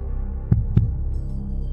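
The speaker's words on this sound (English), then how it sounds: "I get your heart beating." Two thumping heartbeat beats, a lub-dub pair, land low and close over a steady soft hum, then the hum carries on alone.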